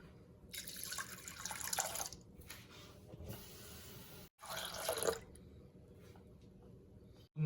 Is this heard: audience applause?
no